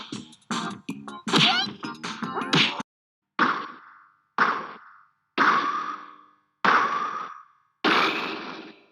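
Cartoony punch and kick effects from the Super Smash Bros. games: a rapid burst of sharp whacks, then five separate loud impact hits spaced about a second apart, each with a short decaying ring.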